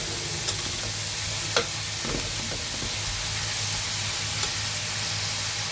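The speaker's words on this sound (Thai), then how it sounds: "ผัดผัก ให้สุกก่อนนะคะ" Vegetables stir-fry in a pan for a Thai-style spaghetti dish, giving a loud, constant hissing sizzle close up with a few light taps from stirring and no one talking.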